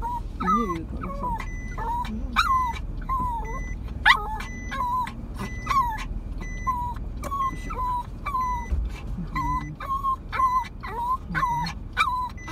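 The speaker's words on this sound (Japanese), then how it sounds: "犬いるからさ" Dog whimpering and whining inside a car, repeated high plaintive cries in an uneven rhythm over low engine rumble and cabin noise, with people talking quietly at times.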